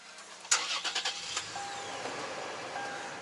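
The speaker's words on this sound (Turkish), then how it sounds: "Şimdi çalıştırıyorum arabayı." A Toyota 4Runner engine cranks briefly with a few rapid turns, catches and settles into a quiet idle, close by and alone.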